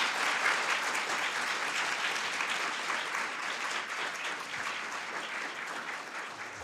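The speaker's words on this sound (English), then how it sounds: "So can we give a round of applause to our judges," A moot court audience applauds the judges, a dense, even clapping that holds steady for several seconds and slowly eases off.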